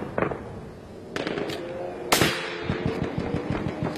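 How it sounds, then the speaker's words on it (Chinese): Sharp gunshots echo through a Battlefield 1 multiplayer match: a few scattered loud cracks, including one especially strong report, then a quicker run of lighter shots, all close and with no talk over them. "有狙击手在狙我。"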